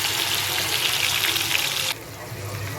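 Masala-marinated squid pieces hiss loudly in hot oil in a kadai. The dense, close sizzle drops abruptly to a quieter, steady bubbling partway through.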